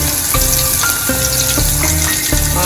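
Asafoetida dropped into hot oil with ginger, chilli and garlic paste for Gujarati kadhi sets off a loud, continuous sizzle and crackle close by, with a few soft stirring knocks.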